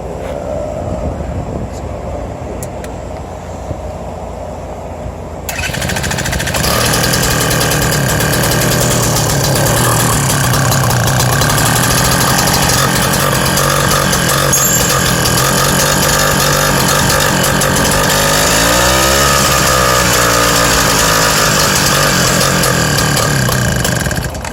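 BT-80 electric-start motorized bicycle engine fitted with a custom exhaust, starting after a quieter lead-in and then running loud and steady with a rapid knocking, hammer-like chatter that continues throughout.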